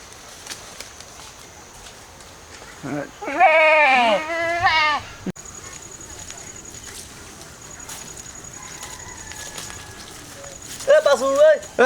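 Goats bleat loudly and close by in a rural village setting, one wavering call in the middle and more bleats at the end, with quiet background between.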